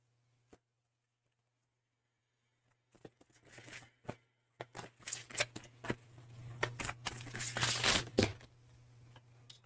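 A large tarot deck is shuffled by hand close up: after near silence and one small tap, soft riffling and sliding card noises build into a busy, irregular stream of crisp flicks and rustles.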